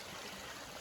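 A stream in New York flowing steadily, a soft, continuous rushing trickle heard faintly with no voices.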